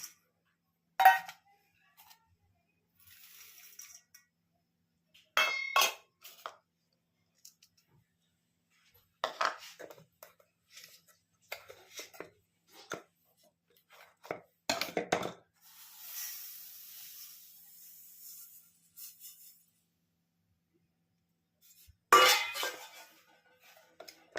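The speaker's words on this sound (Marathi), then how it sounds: "मी एक वाटी खोबऱ्याची वाटी मी भाजून घेतली आहे आता आपण हे सर्व मिक्स करूया" Sesame, jaggery and roasted coconut for tilgul being stirred together in a bowl, giving sparse clinks and scrapes of a utensil against the dish in short bursts separated by quiet gaps.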